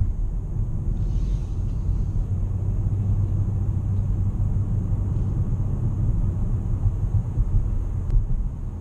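Cabin rumble of a 2017 Nissan Maxima on the move, a steady low road and engine drone throughout with no notable changes.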